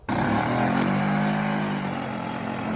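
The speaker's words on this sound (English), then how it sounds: "I just got done mowing this lawn." Steady engine drone from a lawn mower cutting a big residential yard, loud and continuous without a break, with no talking over it.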